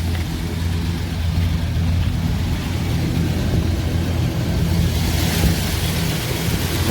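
A custom classic car's engine runs with its hood popped open, a steady low rumble that holds close and even throughout with no voices over it.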